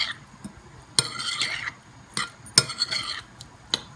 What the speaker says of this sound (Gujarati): આને આપણે ફાઇન રીતે મિક્સ કરી નાખશું કે બધું ફાઇન રીતે મિક્સ થઈ જાય